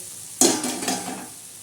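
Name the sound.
bitter gourd vegetable cooking in a pan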